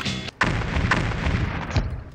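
Fireworks explosions in a pinball arcade game: a run of four or five booming bursts and thumps over a dense, loud wash of machine sound.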